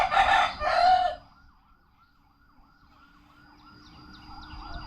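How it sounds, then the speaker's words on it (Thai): A faint, distant police car siren wails in a slow, wavering rise and fall, starting after a brief burst of a nearby voice and continuing quietly to the end. "รถตำรวจมาหับเจ้าแท้ๆหั่นล่ะ"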